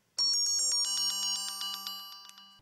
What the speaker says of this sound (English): you can assign it to then make your phone ring.